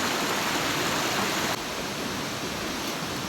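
Heavy rain pours down in a dense, steady roar of broadband hiss at an outdoor cooking spot, loud and continuous with a slight drop in intensity partway through; no voices.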